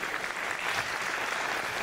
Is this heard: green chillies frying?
no